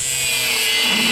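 A small metal washer is being sawn off a piece of scrap brass, producing a steady, loud, continuous rasping cut that fills the whole moment without pause.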